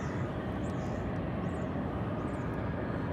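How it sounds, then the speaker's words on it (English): An American Airlines Airbus A319 at DFW Airport gives off a continuous, even jet engine rumble and roar, moderately loud and unchanging across the moment, with no speech. "Here comes American Airlines Flight 687,"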